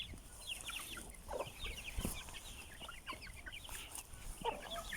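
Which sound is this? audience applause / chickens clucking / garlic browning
chickens clucking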